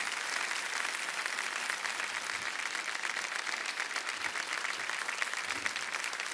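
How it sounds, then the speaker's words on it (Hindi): A studio audience on a television quiz show bursts into sustained, even applause after a correct answer, a dense wall of clapping at steady loudness lasting over six seconds. "तालियां बज जाए इनके लिए"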